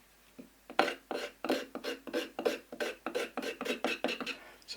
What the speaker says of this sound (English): So I'm using my knife as a scraper